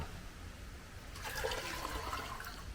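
Water is poured onto a compost pile that was mixed with starter culture and sugar. A steady rush begins about a second in and continues without a break.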